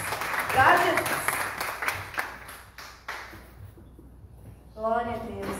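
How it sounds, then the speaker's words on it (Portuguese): Congregation applause in a church service, dense clapping that fades after a few seconds, with a short musical tone rising near the end. "Então dê mais uma forte salva de palmas para Jesus"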